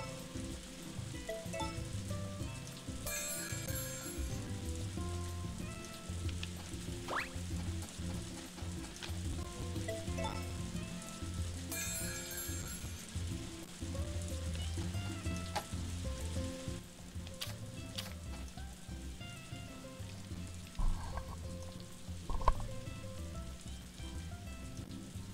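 Steady rain in the farming video game Story of Seasons, a continuous soft patter like drizzle on a surface, with a few faint clicks and thumps over it and no talking.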